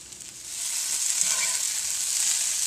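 Potatoes sizzle steadily in a hot pan as home fries finish browning, a bright continuous frying hiss at close range with no talking.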